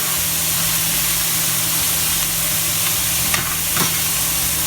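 Meat browning in a pan for green chile produces a loud, dense, continuous sizzle with a steady hum underneath. A couple of brief stirring scrapes stand out, close to the pan.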